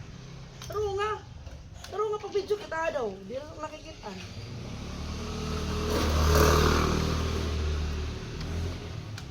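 A motorcycle engine starts up and runs near the recorder on a trip out to a rural plot. It swells into a louder, steady drone after a few seconds of casual talk, with an adult and someone speaking first.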